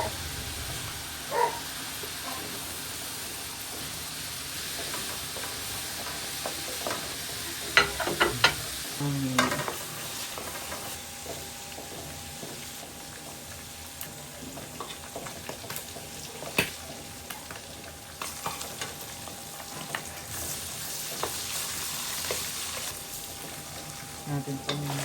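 Onion and garlic sautéing in a pan for bihon guisado, a faint steady sizzle with occasional stirring clatter and utensil scrapes, plus a dog barking briefly in the background.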